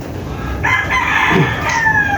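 A gamefowl broodstag rooster crows once, loud and close, a strained cock-a-doodle-doo over faint background noise with no talk.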